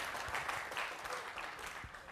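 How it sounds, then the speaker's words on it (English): A small audience in a classroom lecture setting gives a brief round of applause, a steady dense patter of clapping lasting about two seconds at moderate, slightly distant level. "Small round of applause, please."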